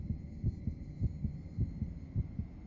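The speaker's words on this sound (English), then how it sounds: "our heart pounding is going away" A pounding heartbeat in the game Death Mark beats as a steady low double thump about twice a second over a faint hum, with no voices.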